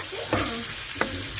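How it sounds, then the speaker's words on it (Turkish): Chopped peppers frying in a pan for menemen, a steady close sizzle with two brief scraping stirs, no talk. "Şimdi güzelce biberleri kavuralım."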